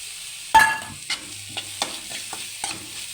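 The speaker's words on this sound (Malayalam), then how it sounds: "ഒന്ന് തോരുന്നവരെ ഒന്ന് ഇളക്കാം" Ground coconut paste is stirred into green beans frying with garlic, ginger and curry leaves for a Kerala-style thoran. A sharp spoon scrape starts it, then softer intermittent scrapes and a faint sizzle follow, close and alone.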